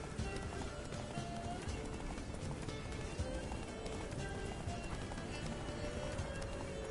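A horse gallops in The Witcher 3 video game, its rapid clip-clop hoofbeats running steadily and unbroken over a busy game soundscape at a moderate level.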